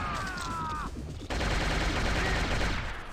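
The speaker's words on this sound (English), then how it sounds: "Switch to rocket launcher. Shoot around the corner." Rocket launcher fire in the game Shogo, a sudden loud blast followed by a sustained dense roar of explosion and gunfire that fills the rest of the moment, preceded by a descending whine.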